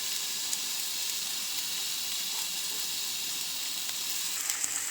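Paneer cubes frying in a pan for hotel-style shahi paneer, with ginger and garlic going in, giving a steady close sizzle and hiss that carries on evenly without a break.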